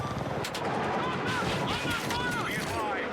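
A sustained rapid barrage of gunfire from a helicopter's guns in the video game Battlefield 6, with dense overlapping bursts and impacts, loud and continuous under a rotor drone and faint talk.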